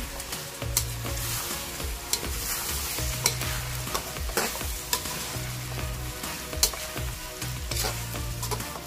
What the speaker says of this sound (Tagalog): Then haluin lang natin